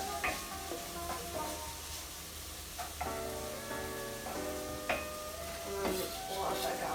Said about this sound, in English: But just again, still sweating off the onions.